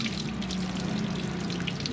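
Tap water runs steadily while an air filter is rinsed under it, a continuous close splashing and trickling stream with a low hum beneath, unbroken for the whole stretch.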